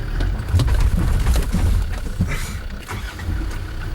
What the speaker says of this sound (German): Ersten Gang einlegen, Kupplung langsam kommen lassen und dann Gas geben.